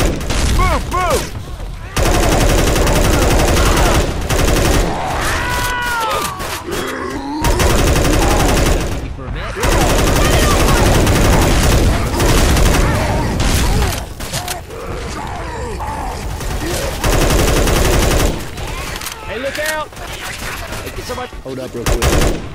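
Heavy Left 4 Dead 2 gunfire aimed at the Tank, long stretches of loud rapid automatic shooting broken by short pauses, with mechanical clatter and occasional shouting voices.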